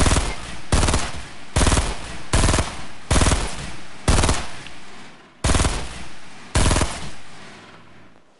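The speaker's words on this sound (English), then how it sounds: "I'm shooting this guy" Rapid bursts of automatic gunfire in the Fortnite battle royale, loud and close, coming in about eight separate volleys of roughly half a second each with short pauses between them, and no talking over them.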